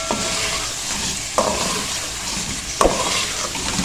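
Chicken being stirred into softened tomatoes and spices in a pot for yakhni pulao, giving a continuous frying sizzle with two distinct spoon scrapes against the pot, close and alone without speech.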